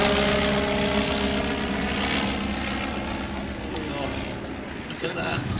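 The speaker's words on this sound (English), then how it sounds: "landing the aircraft into wind whenever possible" A propeller aircraft lands into the wind at an evening airshow, its engine droning loud and near before slowly fading, while a commentator talks over it.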